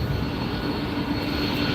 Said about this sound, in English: Got a Delta making the turn there.